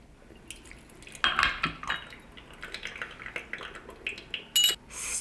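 Clinks and taps of teaware while brewing raw puerh tea, small porcelain pieces knocking and a brief pour, scattered light clatters close by with a sharper clink near the end, no talking.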